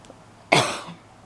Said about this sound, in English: pardon for the cough